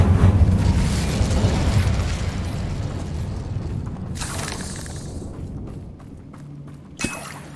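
Fiery blast of an Incendio spell cast in Hogwarts Legacy, a loud rumbling burst that fades over several seconds, with a sharp crackling flare and a small pop near the end.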